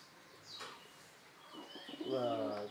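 Pigeons coo softly with a few chirps nearby at a pigeon farm, the low cooing swelling toward the end amid light background bird activity.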